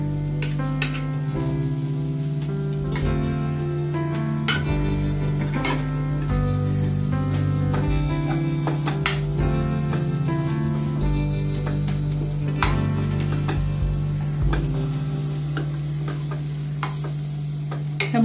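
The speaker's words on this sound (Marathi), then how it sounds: "या मसाल्यांसोबतच आता आपण कांदा हे करून घेतो, परतून घेतो।" Onion sautéing with spices in oil in a pan, a continuous close sizzle with frequent scraping stirs and light clinks of a spoon against the pan, and no talk.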